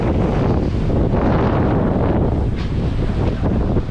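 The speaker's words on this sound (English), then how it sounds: "That's the wind situation." Strong wind at sea while sailing under a double-reefed main and jib, a loud continuous roar buffeting the microphone, mixed with rushing waves and water against the hull, steady throughout with no talking.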